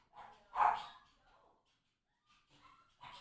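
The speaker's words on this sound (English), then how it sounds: "That dog." A dog barks a few times at moderate distance, one loud bark standing out, followed by quieter yips, in an otherwise quiet room.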